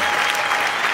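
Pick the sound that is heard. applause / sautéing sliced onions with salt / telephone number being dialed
applause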